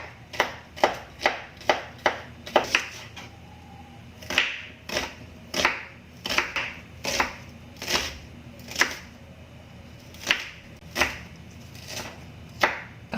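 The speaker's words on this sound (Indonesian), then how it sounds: "saya akan ngiris-iris bawang bombay, bawang putih, dan daun bawangnya ini" A knife slices onion, garlic and spring onion on a chopping board in a steady series of sharp, close chops, quick at first and then spaced more irregularly, with no talk.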